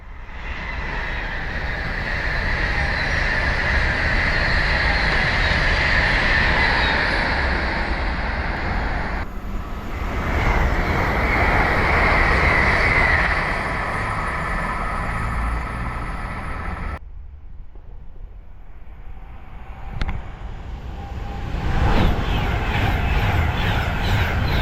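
Train rushing past at Wolverton, a loud, sustained roar close by that swells and breaks off twice as the carriages go through, with no talk.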